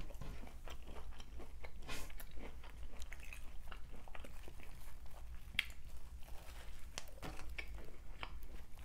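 Close, wet chewing and biting on fried boudin balls, soft crunches and mouth sounds repeating steadily throughout with no talking.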